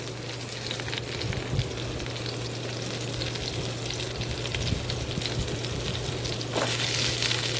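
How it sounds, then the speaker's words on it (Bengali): Ginger-garlic paste sizzling in hot oil while being stirred with a spatula for Bengali potato curry, a steady close crackling fry with occasional scraping, no talk. "দেখো আমি একটু খুন্তি দিয়ে নেড়ে চেড়ে নিচ্ছি।"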